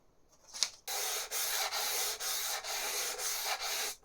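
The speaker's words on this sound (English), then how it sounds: "Let's just get sanding." Steady back-and-forth sanding on a wooden guitar fingerboard, a dry rasping scrape repeated in even strokes, close and fairly quiet, with no voices.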